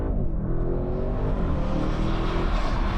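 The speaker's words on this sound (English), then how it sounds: "Pops and bangs, at will, all that hooligan attitude that you want from a proper RS6" Audi RS6 GT V8 exhaust rumbling loudly and steadily with a deep engine roar, crackles and pops blended into the sustained drone.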